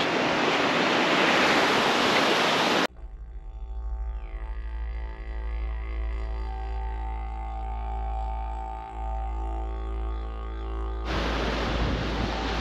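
Surf washes onto the white-sand beach of Thistle Cove in Cape Le Grand National Park. A loud, close roar of waves opens and closes the stretch, and a steady tonal drone takes over in between.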